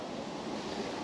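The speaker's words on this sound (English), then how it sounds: "there's the wind picking up, changing conditions" Wind gusting by the River Doon in Ayrshire, Scotland, a steady broad roar with no breaks, close to the microphone and filling the whole short stretch.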